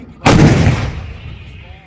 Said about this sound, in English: Please take your attention towards the gun which will now fire a burst of 3 rounds on Bahula 2.